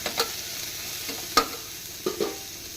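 Cut vegetables, including beans, cauliflower, carrot and cabbage, lightly fry in a pan for khichuri. A soft steady sizzle runs throughout, broken by a few sharp scrapes and clinks of stirring, with no voices.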